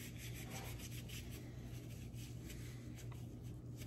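A cloth rubs and wipes across a dirty pochoir stencil in quiet, steady scrubbing strokes, close and faint with no talk.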